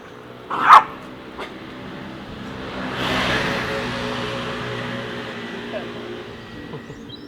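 A dog barks once sharply nearby outdoors during a walk, followed by a faint second yip and steady background noise, with a passing vehicle swelling midway.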